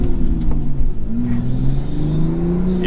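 A manual Toyota Supra fitted with a Pedal Commander throttle controller accelerates, its engine note rising steadily in pitch with a continuous, fairly loud drone, heard from inside the car.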